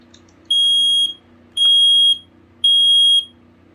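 A Sitterwell GS528A smoke alarm, a cheap unit made in November 2019, blares three loud, piercing beeps of about half a second each, evenly spaced, with a low background hum between them.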